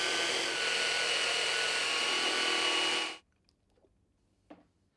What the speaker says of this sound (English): While it is still warm, stir the water with a hand mixer.